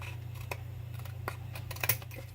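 Scissors snip through tarot card stock from a Robin Wood Tarot deck, giving a few faint, brief cuts over a steady low background hum, with no talking.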